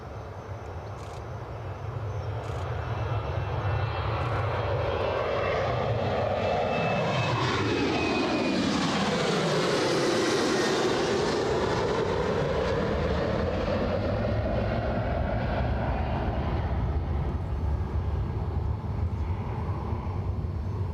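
A Jet2 airliner departing for Larnaca roars with jet engines, building from a distant rumble to a loud, sustained peak as it passes overhead with a sweeping pitch shift, then slowly fading while still strong.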